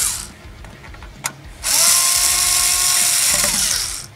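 A power driver retightens three screws on a KC 7-inch LED headlight bezel, a loud sustained whir running for about two and a half seconds after a brief click and a short earlier burst.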